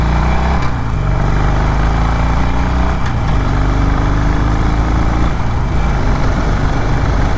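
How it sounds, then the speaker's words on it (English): A 2020 Harley-Davidson Roadster motorcycle rumbles loudly as it accelerates through several gears, the engine note rising in steady sweeps with shifts between them, heard up close over constant wind noise. "I'm gonna roll on the throttle and just go through a few of the gears"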